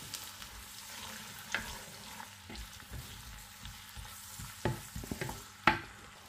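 Onion cooks quietly in a pan for Yemeni breakfast lentils, a faint low sizzle with occasional soft scrapes and taps of stirring, and no talk.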